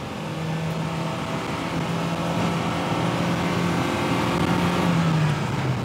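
A car with a pinched exhaust pulls hard through the gears, its steady engine drone rising in pitch near the end, loud and continuous with no talk.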